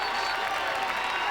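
Crowd at a 1993 NCAA lacrosse semifinal between Princeton and Syracuse applauds and cheers in a steady, dense wash of clapping, heard alone and fairly loud throughout.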